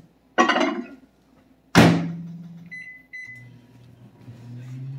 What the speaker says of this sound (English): We're going to start off melting a half stick of butter in our batter bowl in the microwave.